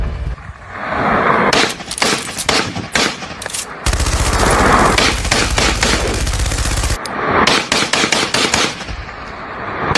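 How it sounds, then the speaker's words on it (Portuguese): Machine gun fire aimed at a UFO: loud, rapid bursts of shots, a long continuous volley in the middle, then more clattering bursts that keep going to the end. "essa suposta nave está sendo alvejada por disparos que parecem vir de uma metralhadora"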